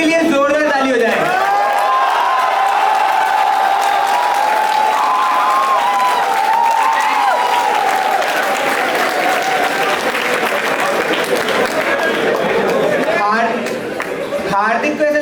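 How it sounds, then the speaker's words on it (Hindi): A college roast-show audience at IIT Kanpur's Gymkhana'25 breaks into loud, sustained applause with cheering and whoops for a performer, a dense clapping roar lasting over ten seconds before tapering, with a voice speaking at the start and end. "एक बार हार्दिक के लिए जोरदार ताली हो जाए।"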